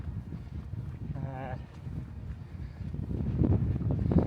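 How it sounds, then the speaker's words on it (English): Strong gusty wind buffeting the microphone on an exposed Dorset hillfort before rain, a low rumbling roar that rises toward the end, with a voice briefly heard under it. "it's bloody windy, it's getting cold."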